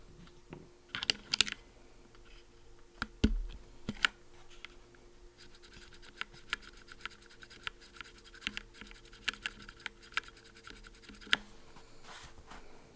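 Keys on a mechanical keyboard fitted with stock Greetech black switches clack in uneven bursts of typing, with sharp louder thocks scattered among the lighter clicks.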